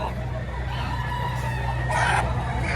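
A rooster crows at a livestock sale in Padre Garcia, Batangas, over a steady low hum of background noise, with no one talking over it.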